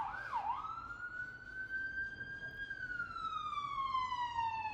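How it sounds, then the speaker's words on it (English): An ambulance siren wails outside, a single long rising then slowly falling tone that stays clear but fairly distant. "Did you order an ambulance?"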